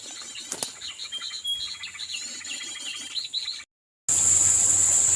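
A prinia sings a rapid, high chirping trill outdoors, with fluttering wing sounds and insect buzz beneath, steady for several seconds before a brief silent cut and a burst of harsh broadband noise.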